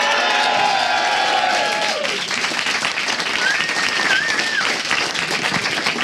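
A large audience at the Intel Extreme Masters Cologne StarCraft 2 esports tournament applauds and cheers, a dense, loud wash of clapping that fades somewhat midway, with a whistle cutting through.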